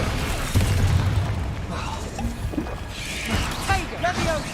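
A Confringo blasting curse goes off in the Hogwarts Legacy video game, a deep booming burst with a crackling tail, heard under a person talking and other game sounds.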